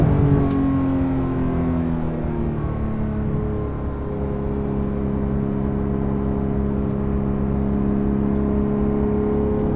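Porsche RS sports car cruising with a steady engine drone and whirring tone, the pitch easing slightly as it holds a constant pace, heard from inside without talk.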